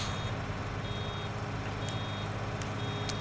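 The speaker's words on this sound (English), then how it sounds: "There's our bale warning beeper." In the farming video game Farming Simulator 19, a baler's bale warning beeper sounds in a steady repeating electronic pulse over a constant low machine drone, with no speech.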